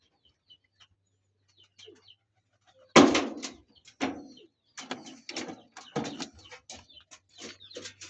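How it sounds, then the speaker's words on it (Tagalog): A disturbed hen and rooster in a coop where the hen is brooding on eggs, giving sudden close squawks and flustered clucking after a quiet start, with scattered calls continuing. "Yung hen, si Bulak. At yung pares na. Yan, nabubulabog sila."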